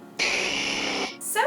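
Charizard's updated cry from the Pokémon video game, a single brief roaring screech lasting about a second, loud and harsh, followed by a short higher chirp-like tail.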